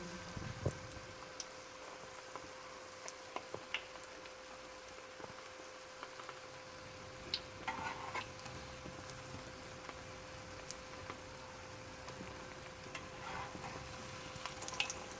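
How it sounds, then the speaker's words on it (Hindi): Potato green masala kebabs shallow-fry on medium heat, giving a faint, steady crackling sizzle with scattered small pops throughout and no voices. "दरमियानी आँच पे मैं इन्हें फ्राई कर रही हूँ"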